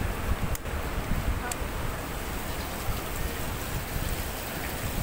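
Steady outdoor wind buffeting the microphone near a church and parking lot, a continuous low rumbling rush with a couple of brief clicks, no talk over it.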